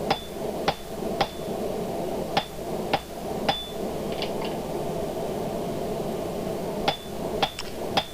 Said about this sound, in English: there is a swelling that happens as I hammer down on the forehead.